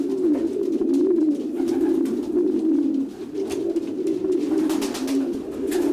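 Racing pigeons coo steadily in a loft, a close, continuous low rolling murmur from several birds with a brief dip midway before the cooing swells again.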